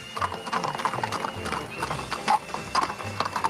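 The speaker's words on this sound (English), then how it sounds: "nice-looking horses, aren't they?" Horses clop along in a steady, close clip-clop of hooves, with creaking tack or wheels rattling beneath and a brief snort or whinny.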